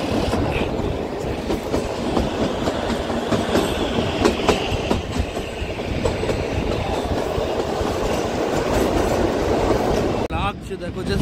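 The Kalka–Shimla toy train runs along the Himalayan mountain railway, its wheels keeping up a continuous close clatter and rattle of carriages, with brief squeals and a voice talking underneath near the end.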